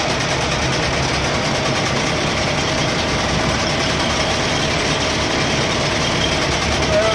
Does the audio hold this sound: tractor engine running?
yes